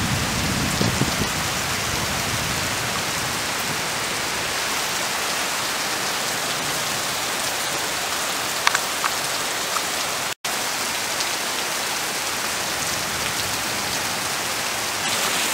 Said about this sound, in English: the rain's coming down now